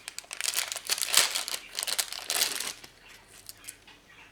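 A small packaged bracelet is unwrapped, its plastic wrapping crinkling and rustling close up in busy bursts that ease into quieter handling toward the end, with no talk.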